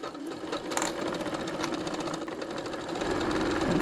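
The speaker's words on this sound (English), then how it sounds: "we're going to back stitch a couple times." A sewing machine back stitching fabric during a small basket project: a fast, steady mechanical whir with rapid needle clicks, close and continuous throughout, slightly rising at the end, with no talking.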